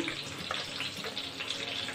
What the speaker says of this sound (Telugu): ఇలా వాటర్ పోసుకొని పేస్ట్లా కలిపి పక్కన పెట్టుకుందాం।